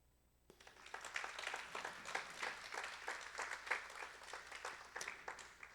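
Audience applause at the close of a talk on screening for sleep apnea: a dense, steady roll of many hands clapping that begins abruptly after a brief quiet moment and continues at an even level to the end.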